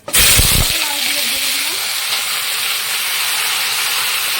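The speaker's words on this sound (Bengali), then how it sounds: "এবার কালো জিরা দিয়ে তেজপাতা দিয়ে" Nigella seeds and bay leaves hit hot oil with a loud initial burst, then settle into a steady, close sizzling hiss.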